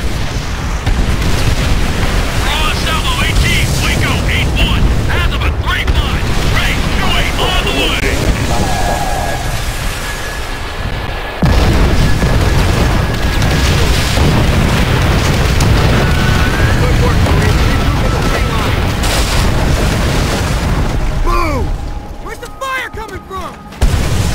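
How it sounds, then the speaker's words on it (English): Rocket strike explosions in Call of Duty: World at War, with heavy continuous booms, rumbling blasts and gunfire filling a loud battlefield din, while soldiers shout over the chaos. "That rocket strike should have softened them up!"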